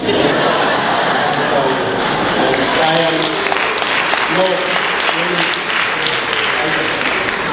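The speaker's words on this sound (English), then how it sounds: "don't applaud too rapidly" Sustained audience applause at a bookstore fundraiser benefit in New York City, a dense, loud wash of clapping from a large crowd that holds steady throughout, with a few chuckles and crowd chatter mixed in.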